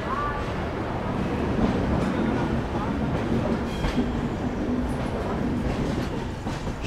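The Tiruchchirappalli–Shri Ganganagar Humsafar Express runs toward Belagavi, heard from on board as a loud, steady rumble with rhythmic wheel clatter over the rails and faint squeals.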